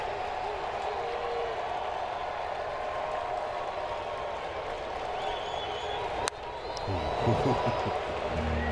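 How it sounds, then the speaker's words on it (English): Steady crowd murmur fills a baseball stadium during an MLB game between the Milwaukee Brewers and Washington Nationals, holding at an even level throughout before rising slightly near the end, with no clear speech on top. "Crowd here making some noise ahead of this 1-2."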